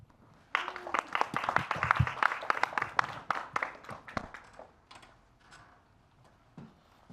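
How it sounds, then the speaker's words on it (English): Small audience at a Los Angeles tech hackathon demo day breaks into applause. Sharp, distinct claps build quickly, hold for several seconds, then thin to a few scattered claps in a quiet room. "Round of applause."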